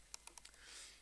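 Several quick, faint keystrokes click on a computer keyboard during a Docker hacking-platform demo, a short irregular burst of taps followed by quiet hiss, with no talking.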